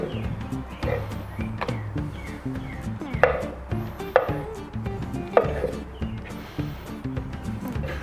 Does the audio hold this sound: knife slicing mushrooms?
yes